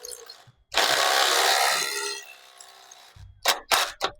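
A 24 mm tool tightens the hitch bolt on a bike rack, giving a long grinding, rasping turn, then a pause and several sharp, close metallic ratchet clicks.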